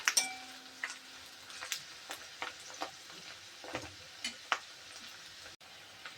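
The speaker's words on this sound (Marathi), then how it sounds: "कांदा छान परतून घ्यायचा." Onion sautéing in a pan for a kuda-flower vegetable dish, giving a faint, soft sizzle with scattered clinks and light stirring taps of a utensil, quiet and close with no talk.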